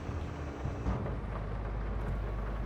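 Steady rain with low rumbling thunder on a farm in Farming Simulator 22, a continuous dense wash of noise with deep rolling energy, no voices.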